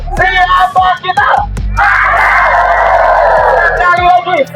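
A large tour group on a Mount Merapi lava tour in Yogyakarta shouts loudly in unison, first in a few sharp bursts and then in one long, sustained roaring yell, close and very loud.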